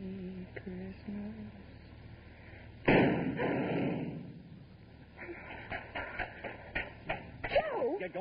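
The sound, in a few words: gunshot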